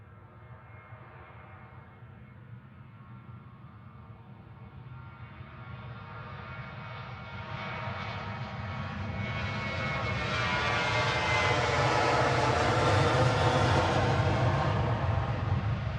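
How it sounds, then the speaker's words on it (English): Jet2 Boeing 737-800 jet airliner departing Manchester Airport on its takeoff roll, a steady engine roar that swells louder and brighter toward the end as the aircraft passes close by. "Jet 2, flight 805 to Izmir, departing now, a 7-year-old 737-800 GJZHN"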